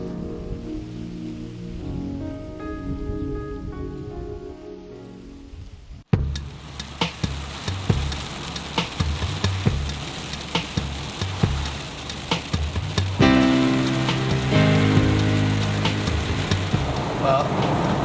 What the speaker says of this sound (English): Well, my worst nightmare's come true, and it's raining.